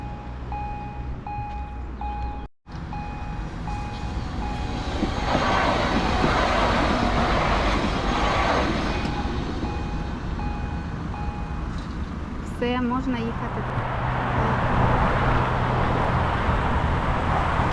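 A train rolls past in an Alpine setting along a cycling route, a steady loud rumble filling the scene for most of the stretch, with a brief squeal of wheels or brakes near the end.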